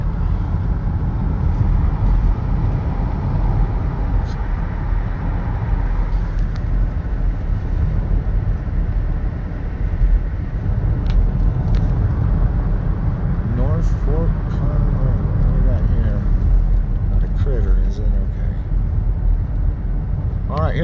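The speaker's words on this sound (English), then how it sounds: "Let's take a little drive." Car driving along a closed road toward a flood-damaged campground, with a steady, loud engine and road rumble throughout, a voice talking intermittently over it.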